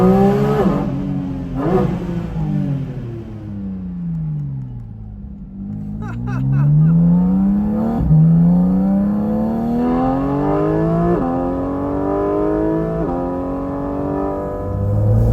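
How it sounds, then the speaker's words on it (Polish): A Porsche 718 Cayman GT4 RS roars loudly from its air intake behind the cabin as it accelerates hard, with the engine note climbing repeatedly and dropping briefly at each gear change. "to zasysanie powietrza, które dzieje się za naszymi uszami, no jest niesamowite"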